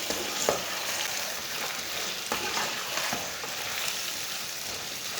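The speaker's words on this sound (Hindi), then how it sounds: "अरबी डाल के इसे 5 मिनट के लिए भून लेंगे।" Pieces of taro roast in a pan with lightly browned onions, a dense continuous sizzle of frying with an occasional soft stir or clink, close and steady without any talking.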